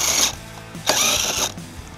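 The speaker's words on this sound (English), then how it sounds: "on the driver's side, we're going to take out these two 10mm bolts" A ratchet backing out 10mm bolts on a Toyota Sienna, two quick bursts of close, crisp clicking separated by a short pause, with no talk.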